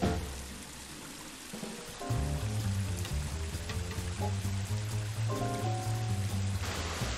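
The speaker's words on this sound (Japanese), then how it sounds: "岩肌を流れる水を布に見立てて名付けられた布引きの滝" Water pours over the rock face of the Nunobiki waterfall on the Teppoishi River, a continuous rushing wash with steady music playing over it for most of the stretch.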